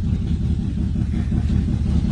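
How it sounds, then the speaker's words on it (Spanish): A small motorcycle engine revs steadily and close by, a continuous low rumbling drone with no talk over it. "dile que acelere para escuchar el poder de la moto"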